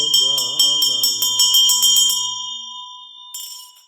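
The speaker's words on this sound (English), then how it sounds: "at the end, we play the bell, and we don't play the dhamma, just the bell" A Buddhist ritual bell rung at the end of a chant: a rapid series of bright metallic strikes, then a long shimmering ring that decays, with one more faint strike near the end.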